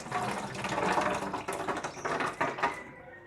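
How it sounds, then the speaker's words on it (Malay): Soaking water is poured off soya beans in a steady, close splashing stream that runs continuously and then tapers off at the end, with no talk. "Air kacang soya ini akan kita buang ya."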